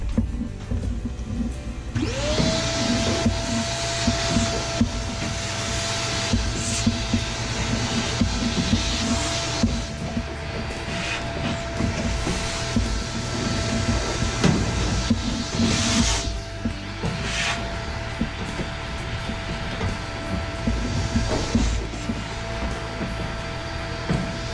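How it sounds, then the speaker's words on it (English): A vacuum cleaner pulls lint out of a home clothes dryer during cleaning, with a steady loud whine and roar running continuously and changing slightly in tone as the nozzle moves. "Now, let me suck some more of that with the vacuum cleaner."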